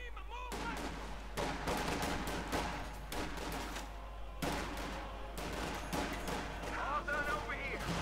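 Gunfire and explosions in the real-time strategy game Company of Heroes 2 during a one-versus-one match between US and OKW forces: dense continuous rattling bursts with broad blasts, loud and sustained.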